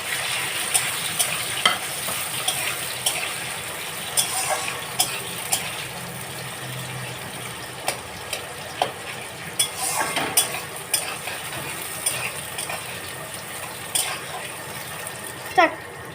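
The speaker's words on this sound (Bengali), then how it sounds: "এলাচ দিয়ে দিচ্ছি, পেঁয়াজ কুচি দিয়ে দিচ্ছি আর টমেটো দিচ্ছি। ভালো করে আমি একটু ভেজে নিচ্ছি।" Cardamom, chopped onion and tomato frying in a pan for chicken curry, a continuous close sizzle broken by repeated scraping and stirring knocks throughout, without audible talk.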